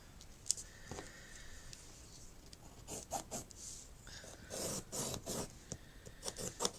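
A pencil traces around the sections of a box template on paper, making close, faint scratchy rubbing strokes in short bursts with brief pauses between them.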